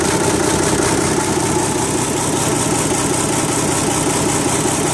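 A warmed-up Fiat-Allis FR12 engine idles steadily and loudly at close range, a constant low rumble with vibration throughout and no voices.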